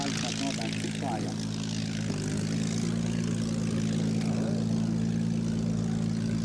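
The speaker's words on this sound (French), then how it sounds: "le démarrage maintenant d'un Spitfire" A Supermarine Spitfire's engine runs at an airshow, a loud steady propeller-engine drone with a shift in pitch partway through, while a commentator talks over a public address.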